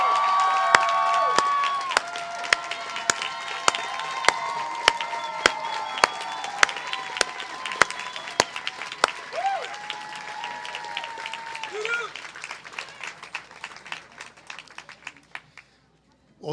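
Commencement audience applauds parents who stand in the hall, a broad wash of steady clapping with sharp individual claps and some cheering, a voice speaking over it near the end before the applause fades out.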